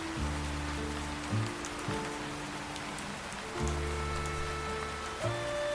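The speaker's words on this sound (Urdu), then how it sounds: "باہر بارش شروع ہو چکی تھی، تیز ہوائیں چل رہی تھی" Steady rain falls in a soft continuous hiss during a stormy night, with a low sustained drone beneath it and no voices.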